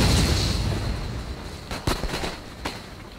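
Musket gunfire in a Napoleon: Total War battle: a few sharp, booming volley cracks stand out over a steady, noisy battlefield rumble.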